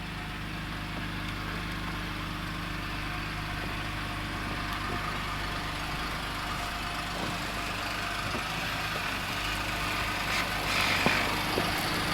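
A car driving back along snowy tracks on a winter outing: a steady, low engine drone heard from inside the vehicle, continuous and even with faint rumbles from the road beneath.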